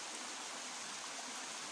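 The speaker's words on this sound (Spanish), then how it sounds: "un manantial donde corre agua" A small waterfall from a hillside spring of clean running water pours steadily, a continuous close hiss and rush with no pauses or voices.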